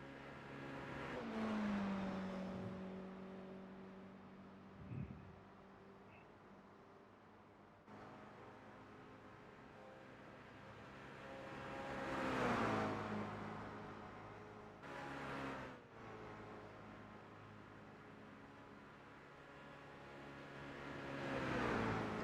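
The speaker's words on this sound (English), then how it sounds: "I think he does, listening to the engine noise." Car engine in a racing sim video game set at the VLN on the Nürburgring, revving up and down through gear changes with swelling and fading engine tones, alone without talk.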